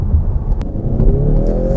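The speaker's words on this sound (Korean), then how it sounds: "4기통 터보 엔진이지만 엔진음과 이 배기음은 진짜 머스카답게 호쾌한 맛이 있습니다" A 2015 Ford Mustang with the 2.3L EcoBoost turbocharged four-cylinder, its engine and exhaust note partly augmented through the cabin speakers, drones loud and steady under acceleration, with a rising pitch.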